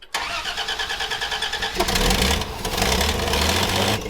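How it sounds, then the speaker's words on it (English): A 1969 Dodge delivery van engine cranks with a rapid rhythmic starter churn for nearly two seconds, then catches and roars into a loud, rough running idle close by. "Now I'm gonna try to get the van to start"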